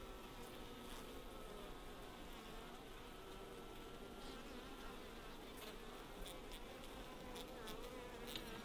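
Honey bees buzz around a hive frame, a dense steady drone of many insects with occasional louder passes of individual bees close by, faint overall and without voices.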